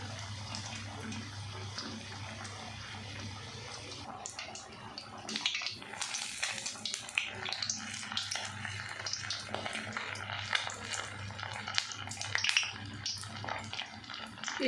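Lahori-style coated fish pieces fry in oil, a quiet hum giving way to a busy, crackling sizzle that builds and stays lively, close by, with no speech.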